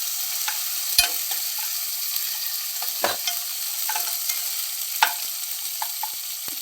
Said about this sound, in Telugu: ఇది కొంచెం వేగిన తర్వాత బంగాళదుంప ముక్కలు వేసుకున్నామండి